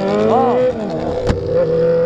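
A car engine revs up and its pitch climbs, then drops as it shifts gear without the clutch, with a sharp crack at the shift before the engine note carries on loud and close.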